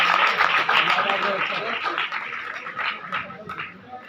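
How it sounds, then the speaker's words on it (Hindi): An audience at a stage performance of the play Mughal-e-Azam applauds the actor who played Salim, a dense burst of clapping that gradually thins out, with a voice speaking over it. "हरीश छावला साहब, जोरदार तालियां होनी चाहिए।"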